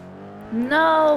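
A car in GTA V NoPixel pulls away, its engine note rising in pitch as it accelerates, fairly close and loud, lasting only about a second.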